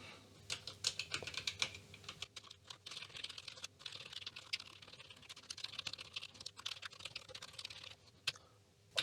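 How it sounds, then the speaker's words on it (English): Continuous typing on a computer keyboard while every key is tested, a dense, irregular stream of close, crisp clicks and key taps with brief pauses, no voices. "I'm gonna test a little bit more on the keyboard, just go through all the different keys."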